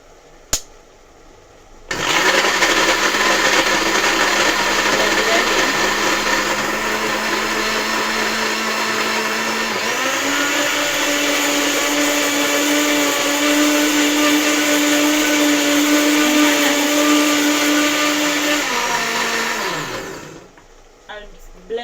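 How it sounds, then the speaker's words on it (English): Blender whirring steadily as it purees tomatoes until smooth, a loud continuous motor drone whose pitch steps up partway through, running about eighteen seconds before cutting off. "So I'll blend my tomatoes."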